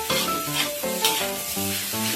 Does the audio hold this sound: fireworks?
no